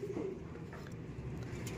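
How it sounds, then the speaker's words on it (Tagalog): Young birds on display give soft, low cooing calls close by, a few gentle repeated coos over a quiet background. "naka-display yung mga ibon natin doon, yung mga summer young bird natin"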